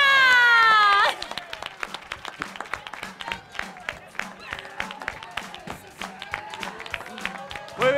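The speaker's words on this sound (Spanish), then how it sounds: "todos aplaudiendo, como si acabara el Pucela de ganar la Champions" Crowd in a town square on a Saturday evening claps and cheers as gymkhana winners are congratulated, a dense burst of applause with shouts over it, settling into scattered, rhythmic clapping with voices calling out.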